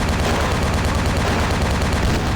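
Heavy gunfire in Vampire: The Masquerade - Bloodlines, a dense, loud barrage of blasts packed tightly together for the whole stretch without a break.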